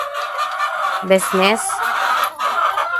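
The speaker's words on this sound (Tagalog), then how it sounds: "yung mga manok namin dito" Farm chickens clucking in short harmonic bursts close by, with a busy background of other fowl and someone talking over them throughout.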